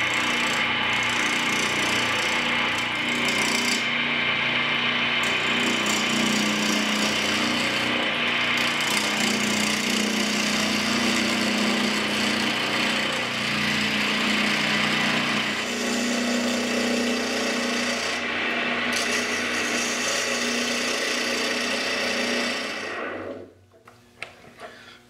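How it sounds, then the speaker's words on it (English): A wood lathe turns milk bio-plastic under a regular spindle gouge, a continuous motor hum with scraping cutting noise and short interruptions, loud and close, before the machine winds down and stops at the end. "this is very soft material, so I'm just gonna be using regular old spindle gouge"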